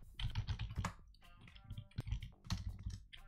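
Computer keyboard typing as switch commands for VLAN setup are entered, rapid close clicking bursts with uneven rhythm and brief gaps, no voices.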